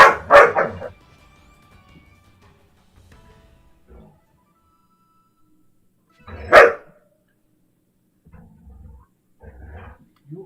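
A puppy barking in a room: a quick burst of several sharp yips and barks at the start, a single louder bark around the middle, then softer scattered whimpers and low bumps, with no talk.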